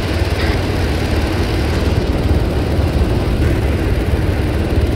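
A military helicopter engine runs in the video game ARMA 3, a loud, steady, low droning roar with constant rotor thrum, no talk.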